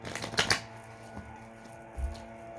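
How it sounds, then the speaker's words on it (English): A deck of tarot cards is shuffled by hand, giving soft, quick riffling clicks that cluster early and then taper into quieter rustles, close but low in level. "I did shuffle these earlier, but I felt compelled to do another."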